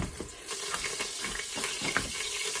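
Garlic browning in hot olive oil, a steady sizzle with small scattered pops and crackles, close and fairly loud, with no talking.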